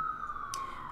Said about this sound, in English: I'm gonna just talk over the sirens